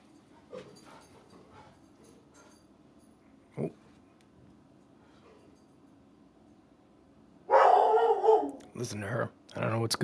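A dog barks in a loud burst of several barks near the end, after a quiet stretch with a faint earlier yelp and low background noise.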